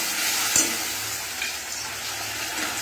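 Onion, whole cumin and ginger frying in a pan, a steady close sizzle with one brief clatter early on and no talking.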